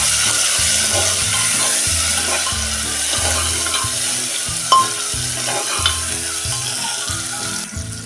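Chopped tomatoes and onions frying in a pan, stirred with repeated rhythmic scraping strokes over a steady loud sizzle, close up, no talking.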